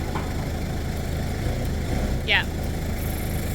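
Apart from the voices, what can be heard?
forklift engine idling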